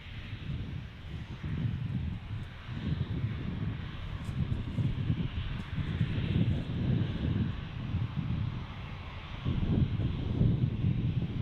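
Air New Zealand Airbus A321neo landing at Gold Coast Airport, heard as a steady, moderately loud low jet rumble with wind buffeting the microphone, swelling slightly near the end, with no talk.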